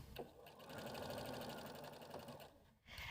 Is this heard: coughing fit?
no